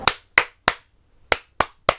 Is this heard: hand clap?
yes